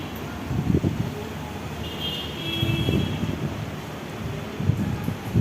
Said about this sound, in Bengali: আর ঝড় বাতাস কীভাবে ছুটতেছে দেখছেন